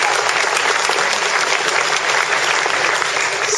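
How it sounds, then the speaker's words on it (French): Steady, dense applause from a crowd at a republican banquet in Chelles fills the room, loud and continuous throughout with no pauses. "votre secrétaire de section, Olivier, on peut l'applaudir"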